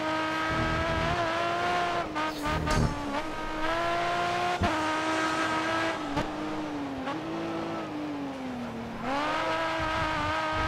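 A race car engine in GRID Autosport downshifts to second gear, its loud, close tone dropping and rising in pitch with several gear changes and brief tire noise across the run.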